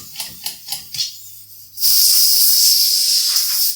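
A tubeless mountain bike tire being seated on its rim without a compressor: a few soft knocks, then a sudden loud, steady rush of hissing air that carries on close up.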